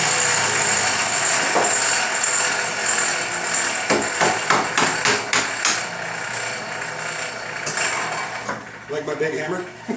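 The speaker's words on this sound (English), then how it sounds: "Like my big hammer?" Several sharp blows from a big hammer ring out in a quick series amid woodworking shop noise, followed by a few more strikes near the end.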